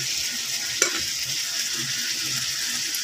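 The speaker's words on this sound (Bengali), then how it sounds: "তেলটাও ভাজা ভাজা হয়ে যাবে তেলের মধ্যে আদা রসুনটা।" Ginger garlic paste sizzles and fries in hot oil in a pan, a steady close crackle with a single sharp clink of a utensil partway through.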